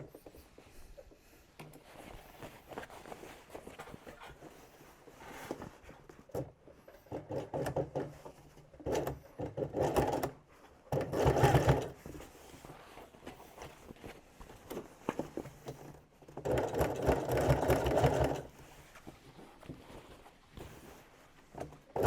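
A sewing machine runs in uneven bursts as double top stitching goes along the shoulder seams of a denim workwear jacket, with rhythmic mechanical chatter rising and falling between pauses, close and moderately quiet.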